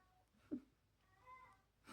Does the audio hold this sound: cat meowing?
yes